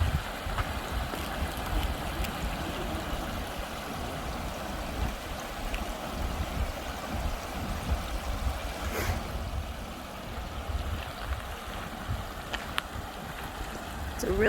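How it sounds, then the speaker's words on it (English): Waterfall at a scenic spot pours in a steady, broadband roar that holds evenly throughout, with constant rushing water noise and no talking. "This is a really pretty waterfall going on here."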